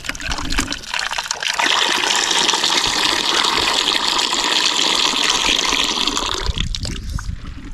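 Cold water pours steadily onto a very hot object outdoors in a Kenyan village, a continuous rushing, splashing gush lasting several seconds before tapering off.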